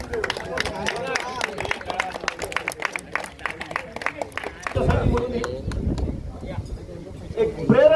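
A crowd claps in quick, uneven bursts at an under-16 cricket tournament in Sindhudurg district, loud and close at first before fading into murmuring voices and crowd noise.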